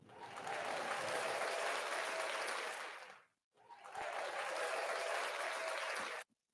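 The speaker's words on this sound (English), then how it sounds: "Let's get a round of applause for me" An audience bursts into sustained applause twice, each dense wash of clapping lasting a few seconds before cutting off, with a short pause between, moderately distant.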